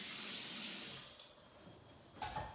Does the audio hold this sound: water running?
yes